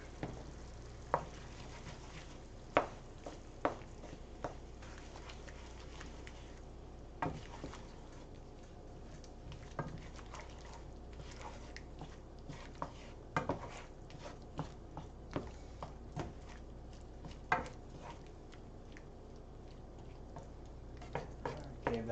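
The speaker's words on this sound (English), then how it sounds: "And we give this a stir." A spoon stirs Kenyan curry chicken in a pot, giving soft, close scraping and clinking knocks at irregular intervals over a faint steady simmer and sizzle, without talking.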